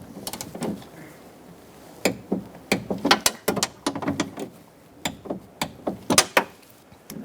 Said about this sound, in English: I'm torquing these to 65 inch-pounds